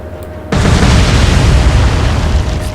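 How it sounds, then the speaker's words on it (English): Torpedo hits strike a ship in the naval game Atlantic Fleet, a sudden heavy boom that cuts in after a quiet lead-in and then rolls on as a loud, sustained low rumble with crackling debris. "3 torpedoes hit."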